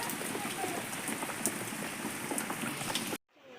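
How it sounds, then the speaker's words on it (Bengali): Heavy rain pours down in a dense, steady patter with scattered louder drops, cutting off abruptly near the end. "এই যে বাইরেটা প্রচন্ড বৃষ্টি হচ্ছে"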